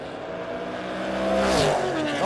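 Drag race cars launch at a No Box 660 shootout with a rising engine roar and a sharp upward rev sweep, loud and close, under an announcer's voice.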